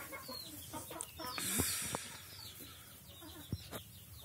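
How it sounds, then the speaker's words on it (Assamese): Laying hens on a small local poultry farm cluck softly and intermittently, some calls nearby and others further back, over a quiet barn background. "চাওক, কণী দি আছে মুৰ্গীকেইটা।"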